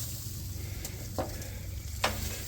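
Steaks sizzle on a grill with a soft steady hiss, close by, broken by a couple of brief scraping or clinking touches and a low background rumble, with no one speaking.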